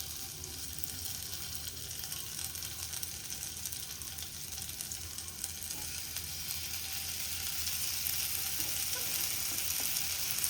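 Squares of garlic-marinated Punjabi paneer tikka on a stick sizzle in well-heated oil, a soft, even frying hiss that swells slightly toward the end, with no voices.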